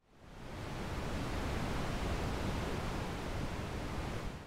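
Soothing ambient noise effect synthesized in Bitwig Studio: a soft, steady hiss like distant surf or rushing water that fades in smoothly and sustains evenly throughout, faint and alone.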